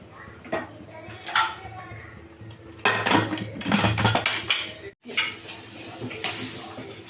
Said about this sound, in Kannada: ಈಗ ಇದನ್ನು ನಾನು ಮುಚ್ಚಳ ಮುಚ್ಚಿಬಿಟ್ಟು ನಾಲ್ಕು ಬಿಸಿಲ್ ಕೂಗಿಸ್ತೀನಿ